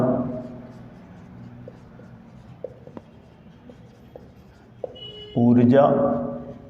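Someone writes on a board during a class-12 physics lesson. Faint taps and strokes come a few at a time at irregular intervals, partly under a teacher's talking.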